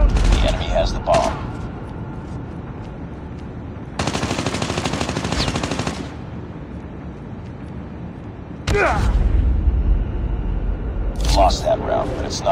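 Heavy gunfire in the mobile shooter Call of Duty Mobile: dense bursts of automatic fire crackle in several stretches, with a sharp sustained volley in the middle and louder bursts toward the end, among game effects and chatter.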